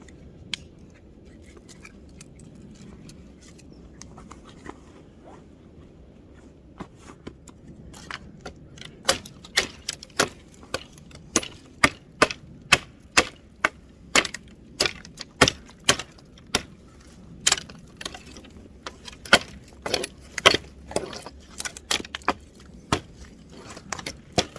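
A Condor Scout hatchet chops dry, brittle weathered wood outdoors, sharp irregular cracking strikes starting sparse and growing into a rapid series of close impacts.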